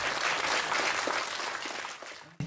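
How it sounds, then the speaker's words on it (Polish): Audience applause for a guest at an author meeting, a full, steady round of clapping from many people that slowly tapers and then cuts off abruptly near the end. "Wielkie brawa dla naszego dzisiejszego gościa"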